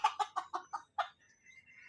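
A bantam chicken clucks close by in a rapid run of about six sharp clucks, then gives a few faint, softer trailing calls.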